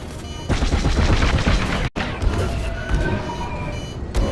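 Rapid starfighter laser cannon fire in Star Wars Squadrons, dense sustained bursts of blaster shots with a brief gap midway, loud and close.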